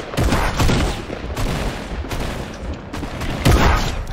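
Rapid shotgun and gunfire blasts from a Fortnite Battle Royale firefight, loud and dense with bursts throughout and a heavy shot near the end.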